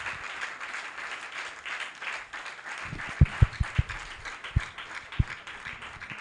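A church congregation claps in praise of God during a worship service, with a handful of sharp, scattered claps rising out of a dull background hum.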